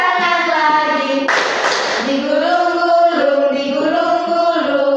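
Children in a primary-school classroom sing a song while clapping their hands, with a short burst of brisk claps midway through the steady singing.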